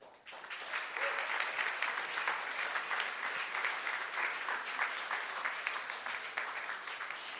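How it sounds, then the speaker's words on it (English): An audience at ASU Venture Devils Demo Day applauds event helpers with sustained clapping that rises quickly and holds as a dense, even wash for several seconds. "So please stand up and let us cheer for you as well."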